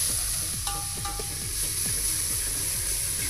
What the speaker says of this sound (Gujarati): આગે વંગાર મૂકી દીધું છે.